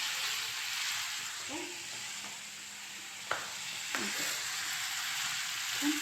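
Turmeric and green chili frying steadily in a pan, a soft continuous sizzle with a few faint stirring clicks and scrapes, close and alone with no talking.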